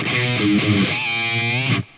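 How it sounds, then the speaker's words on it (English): Heavily distorted electric guitar plays a few notes, then a bright, squealing high pinch harmonic rings out and sustains before cutting off. "Sometimes even at the little pinch harmonic."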